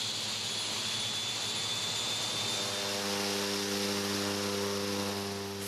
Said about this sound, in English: in a propeller plane designed for the demanding task of flying over mountains